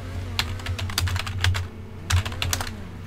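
Quick bursts of typing on a computer keyboard, close and crisp, with clustered key clicks and short pauses between runs, heard alone with no talking.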